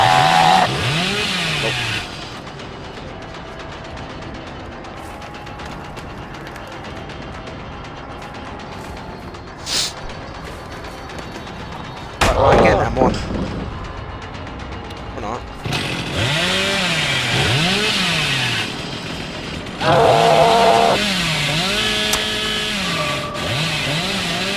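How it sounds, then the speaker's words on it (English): In the video game Dead by Daylight, the Hillbilly's chainsaw roars and revs continuously through a sprint attack, with loud bursts of engine noise rising and falling over a long stretch of game audio, with a voice talking over parts of it. "Then I chainsaw sprinted him from that window while he vaulted."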